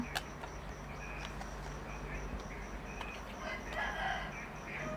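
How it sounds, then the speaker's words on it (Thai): A rooster crows faintly in the distance in early morning amid steady background noise, with other fowl calling softly. "เสียงน้องไก่ก็ขันแต่เช้าทีเดียวนะคะ"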